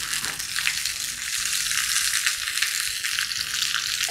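Grouper fish and onion fry in a pan, giving a close, steady sizzle and crackle, with no voices.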